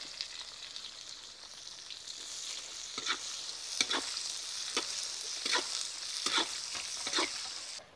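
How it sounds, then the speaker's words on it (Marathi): Sliced onion with whole spices fries in oil over a wood-fired stove for brinjal dum biryani, a continuous sizzle punctuated by repeated scraping stirs of a spoon at irregular intervals. "त्यात जो आपण कांदा कापून घेतलेला आहे तो पण मस्त सोनेरी रंग येईपर्यंत भाजून घेऊ"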